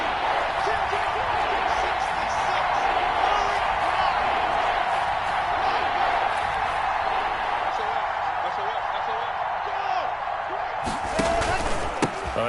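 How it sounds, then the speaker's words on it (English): Stadium crowd noise from a PS4 football video game swells steadily throughout as a big third down approaches, a dense continuous roar with a few sharp knocks near the end. "The crowd getting into it as we come up on a big 3rd down."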